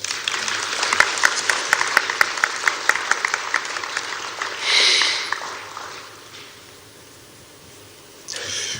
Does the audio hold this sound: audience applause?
yes